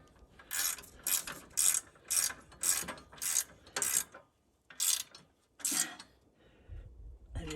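A ratchet wrench clicks in short bursts while assembling a Norwood HD36 sawmill, about nine crisp rhythmic ratcheting strokes, close and clear in an otherwise quiet space.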